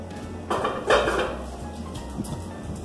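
Terracotta and plastic plant pots clattering together while being handled, a few hollow knocks and clunks near the start, then quieter rattles over a low background hum.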